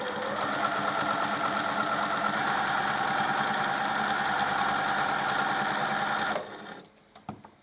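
A sewing machine stitching down a piece of scrap fabric with long stitches, a fast, even mechanical whir and rapid needle clatter, loud and close, running steadily for several seconds before stopping.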